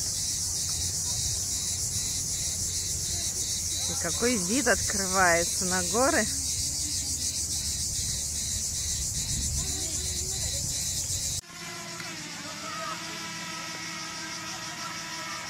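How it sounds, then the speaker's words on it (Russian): Loud cicadas in a picnic area at a beach in Beldibi, Kemer, Turkey, keep up a dense, steady high buzz throughout, while someone talks briefly partway through before the scene cuts sharply. "Можно послушать, какие громкие цикады."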